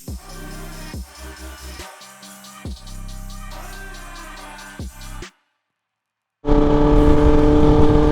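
Kawasaki Ninja ZX10R motorcycle riding on the road, its engine pulsing through several rising gear pulls with short dips between shifts, then a brief silence before loud, steady wind and engine roar.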